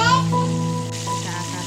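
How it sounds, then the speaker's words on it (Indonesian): Chicken pieces frying in oil over a low flame give a steady, continuous sizzle and crackle, fairly close, with a faint tonal hum underneath. "Setelah itu kita akan goreng ayam pakai api yang kecil agar matangnya merata sampai dalam sampai tulangnya"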